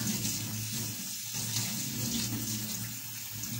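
Cold tap water running steadily over red lentils being rinsed in a sink, a continuous close splashing rush with slight fluctuations.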